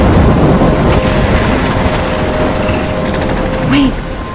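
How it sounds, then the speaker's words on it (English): A thunderstorm rumbles through the video game Life is Strange, with a steady, loud broadband roar of wind and rain and low rolling thunder, plus a faint tonal game hum and a brief swell near the end. "I'm trapped in a storm?"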